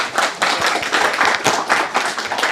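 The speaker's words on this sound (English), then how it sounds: "Everybody, give her a round of applause." A small audience at a JavaScript developer meetup in Edinburgh gives a short round of applause, close and fairly loud, with individual claps distinct in uneven bursts.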